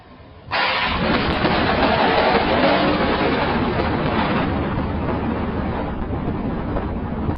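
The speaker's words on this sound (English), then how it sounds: "a powerful lightning strike hits an electric fence, unleashing a deafening explosion that shakes the surrounding air like thunder" A lightning strike hits an electric fence, and a loud blast bursts in suddenly after a brief quiet, then rolls on as a sustained, thunder-like roar that slowly fades.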